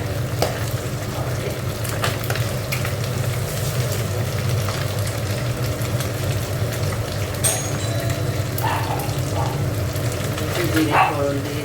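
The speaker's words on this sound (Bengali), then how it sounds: "জিরে ফোড়ন দিয়ে দিলাম" Cumin seeds and bay leaf tempering in hot oil in a home kitchen make a steady, crackling sizzle, with occasional sharper pops and light stirring clinks throughout.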